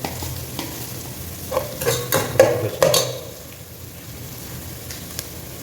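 Mustard seeds frying in a pan of oil for a coconut fish head curry, with a few seconds of loud crackling sizzle and popping bursts and spoon scrapes, then settling to a softer, steady hiss.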